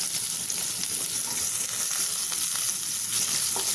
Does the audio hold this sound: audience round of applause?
no